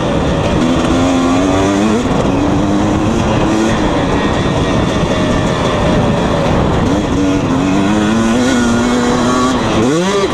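A 2020 KTM 250 SX dirt bike in third gear revs hard and close, its engine pitch repeatedly climbing and dropping as the throttle is worked.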